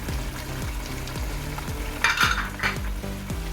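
Ground spices sizzle loudly in a pan while a spoon stirs in a regular rhythm, and the metal scrapes and clinks against the pan now and then. The cooking is for beef kofta, and nobody speaks.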